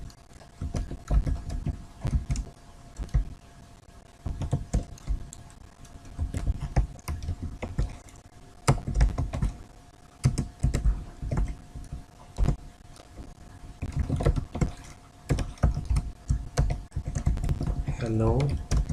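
Typing on a computer keyboard while writing a C program, a steady run of close, fast key clicks with short pauses and bursts, loud and continuous throughout.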